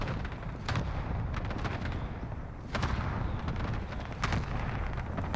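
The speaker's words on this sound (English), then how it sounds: "They're shooting over here. Now he's shooting back." Repeated gunfire in the video game Call of Duty: Modern Warfare, with bursts of rapid shots, some sharp and near and others more distant, over a continuous rumbling battle background.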